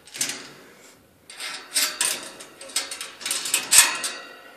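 Several metallic clanks and rattles of a ferret cage latch and door shifting, close by, in short bursts with brief pauses.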